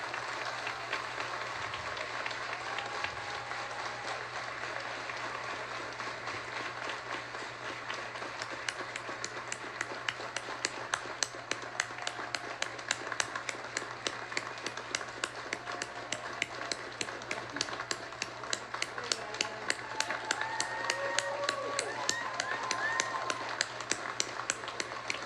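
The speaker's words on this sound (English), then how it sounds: "Captain Jason Siltonen, so we can give them a round of applause" An audience at a police department swearing-in ceremony claps in a sustained round of applause, starting as a soft patter and swelling into dense, fast clapping that continues steadily to the end.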